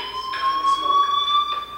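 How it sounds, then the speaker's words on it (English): A fire alarm rings in the video game Life Is Strange, a steady electronic tone held throughout the clip, fairly loud and sounding alone with no voices. "do you hear that fire alarm?"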